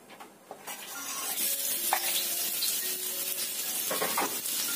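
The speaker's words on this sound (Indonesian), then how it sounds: "Kita tumis dulu jahe dan bawang putihnya." Ginger and garlic sauté in about two tablespoons of hot oil, giving a steady, close sizzle that swells after the first second, with the occasional scrape of stirring.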